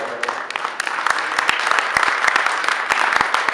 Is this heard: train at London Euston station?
no